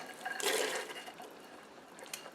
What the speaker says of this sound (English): Now we're going to add our carrots